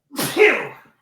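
A single sharp human sneeze during a podcast conversation, close to the microphone, with a quick inhale then a forceful burst that fades out within a second.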